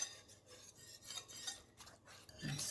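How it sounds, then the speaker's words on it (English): A utensil stirs an egg, cheese and chard mixture in a dish, with faint scraping and swishing strokes in a quick, brief burst and no talking. "Then we'll give it a quick stir"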